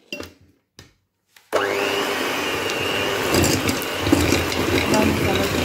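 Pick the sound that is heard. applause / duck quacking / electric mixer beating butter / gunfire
electric mixer beating butter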